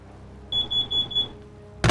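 A steady high electronic alarm tone beeps in a rapid pulsing run for under a second, fairly close and clear over a low room hum, then stops abruptly.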